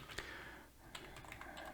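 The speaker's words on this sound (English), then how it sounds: "I wish to focus on typing the code correctly" Keys on a computer keyboard clatter softly as someone types out code, a few scattered keystrokes over a faint steady background hum, quiet and fairly close.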